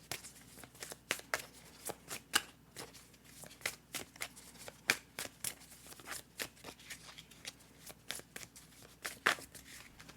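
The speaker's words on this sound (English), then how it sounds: "We'll just shuffle out one card for you from this deck" A tarot deck being shuffled by hand for a love reading, giving a steady run of crisp card snaps and riffles, close and fairly quiet, with no talking.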